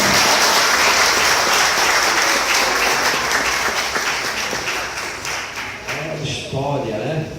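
Vigorous congregational applause during a church anniversary service, loud and dense at first, then thinning into more distinct claps while a voice and some tones rise beneath it toward the end.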